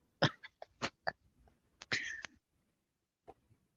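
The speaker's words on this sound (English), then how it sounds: "I'm coughing my brains out." Someone coughs up close in a rapid series of harsh bursts, then a longer hacking cough, followed by a faint cough after a pause.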